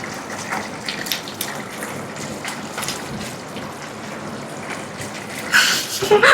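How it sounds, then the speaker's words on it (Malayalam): Water pours steadily into a cooking pot, a continuous splashing gush that swells louder near the end. "വെള്ളം."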